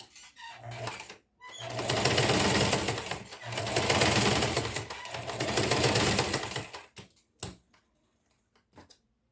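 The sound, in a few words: sewing machine stitching fabric with white thread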